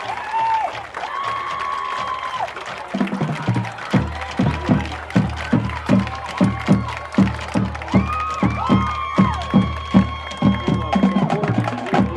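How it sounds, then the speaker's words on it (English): Crowd in stadium bleachers applauding a high school marching band at a football game, steady clapping with some cheers, then rhythmic unison claps and drum-like beats keeping time, loud and close throughout. "let's give a loud round of applause for the 2025 Algona High School Sterling Regiment Marching Band"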